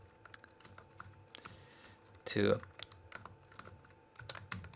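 Fingers tap out code on a computer keyboard in quick irregular bursts of clicks, with one louder cluster of keystrokes midway, close and clear in a quiet room.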